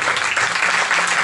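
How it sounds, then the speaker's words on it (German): Loud, dense crowd applause at a wedding fair fashion show at Schloss Diedersdorf, a steady wash of many clapping hands filling the short moment without pause. "jetzt wollen wir einfach nochmal hier einen großen Applaus sozusagen hier für den"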